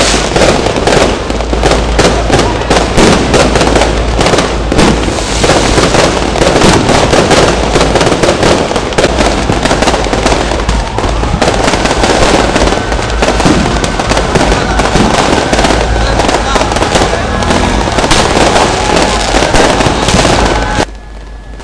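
Loud New Year's fireworks around Lapangan Merdeka in Ambon crackle and pop continuously, dense bursts overlapping with booming low thuds, with a crowd murmuring underneath, then ending abruptly.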